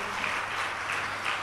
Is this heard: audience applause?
yes